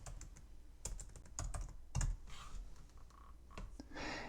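Quick bursts of key presses on a computer keyboard as a short word is typed, close clicks in uneven clusters with brief pauses between.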